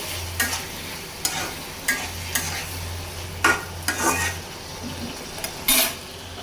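Bitter gourd curry cooks in a pan, a spoon scraping and stirring with repeated clinks against the metal over a soft steady sizzle, close and fairly loud.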